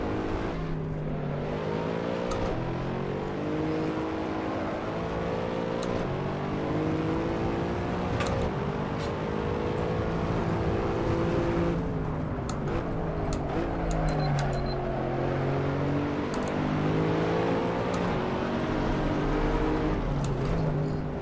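A race car drifting on the Nordschleife in the Assetto Corsa racing game: a continuous engine drone rising and falling with revs through corners, with occasional tyre squeal, steady and close for about twenty seconds with no talk.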